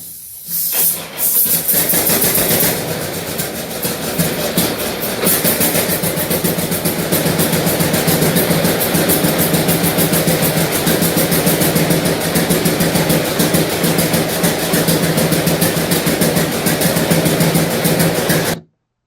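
A 1938 John Deere G tractor engine fires with a sharp burst, then runs loudly and steadily with a harsh, hissing, rapid chugging that continues for a long stretch before cutting off abruptly.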